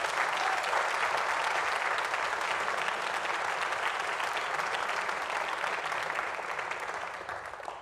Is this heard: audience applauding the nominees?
yes